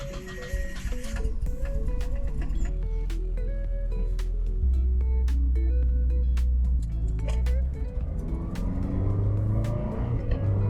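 A turbocharged 1999 Mazda Miata engine pulls away, its steady low rumble rising through gear changes as the car drives off, loud and close, heading out to an autocross event.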